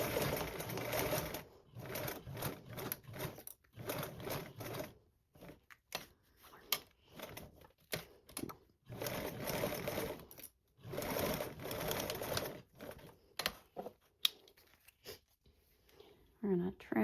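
Close sewing machine stitching a seam on a garment in several short, stop-start bursts, with someone talking over and between the runs.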